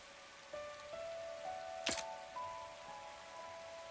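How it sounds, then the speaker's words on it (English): Rain falls steadily in The Hundred Line -Last Defense Academy-, a soft constant patter, with faint tonal game sounds and one brief sharp crack partway through. "This rain stuff is nothing but trouble."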